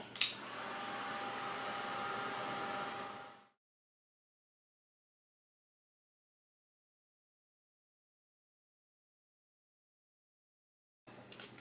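A hair dryer blows steadily on fresh paint for about three seconds, close and constant, then cuts off into silence before a short burst of noise at the very end.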